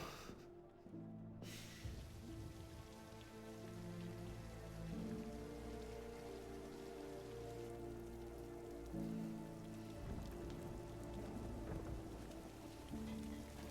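Rain falls in the Arcane animated series, a steady patter on surfaces with a faint hint of thunder, set under sustained low musical tones that run through the whole scene.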